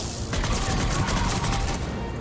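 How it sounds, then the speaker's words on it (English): Rapid gunfire from a Mass Effect 3 firefight rattles continuously in dense bursts, loud and close with booming impacts, filling the whole stretch without pause. "Who's shooting at me?"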